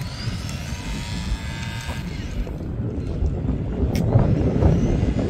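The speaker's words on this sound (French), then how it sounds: "Là il y a du vent, ça souffle." Wind buffets the microphone of a camera while riding along, a continuous loud low rumble with faint higher whooshes swelling slightly toward the end.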